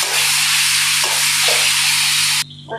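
Tomatoes drop into a hot frying pan with onion, salt and oil for a pangas fish curry, setting off a loud, steady close-up sizzle that stops abruptly near the end.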